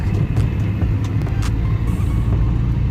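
Interior of a 1997 Tofaş Şahin S car driving in second gear through a bend: a loud, steady low engine drone and road rumble runs throughout, with no speech.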